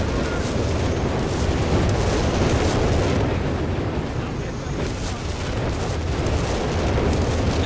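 A whizbang rocket artillery barrage in the World War II strategy game Company of Heroes 3, a loud, sustained roar of overlapping explosions and booms with constant rumble throughout, under a commentator's voice.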